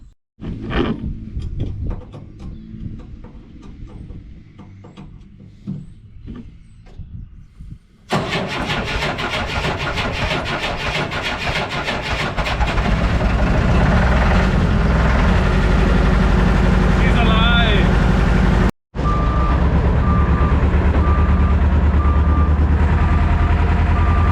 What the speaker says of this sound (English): let's see if this thing wants to start this morning. The old forklift.